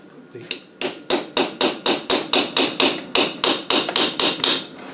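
A punch is hammered to drive out a clip from an Adwest lightweight TDCi steering box: about fourteen sharp, ringing metal strikes in a steady, fairly quick rhythm, loud and close, with no talking.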